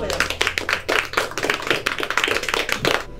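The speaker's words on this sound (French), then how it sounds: "Je crois qu'on peut les applaudir." An audience claps in a quick, rhythmic patter with individual hand claps distinct, while voices talk over the applause.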